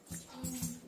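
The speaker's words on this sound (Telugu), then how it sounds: "రండి రండి, కుక్కలు ఉంటాయి బయట." A dog outside gives a brief, soft whimper, a short thin whine at moderate distance in a quiet setting.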